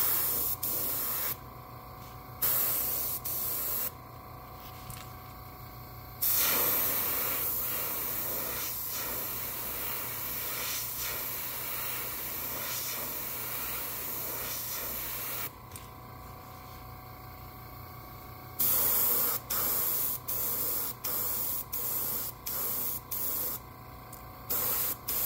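An airbrush sprays paint onto a Megabass S Crank fishing lure in a Tennessee shad pattern: close, steady hissing blasts that start and stop, some long and some in quick short puffs.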